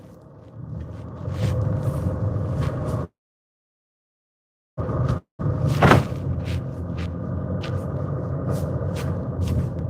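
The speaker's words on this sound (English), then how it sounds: "I apologise for the sound of a diesel engine." Diesel car engine rumbling steadily inside a moving car, a constant low drone with a few brief cutouts and a thump, and no talk.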